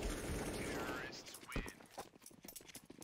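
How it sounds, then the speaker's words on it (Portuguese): Gunfire trades back and forth during a professional CS:GO match on the Inferno map, with quick bursts and single shots scattered over a few seconds while a commentator talks over the action. "troca de tiros vem rolando"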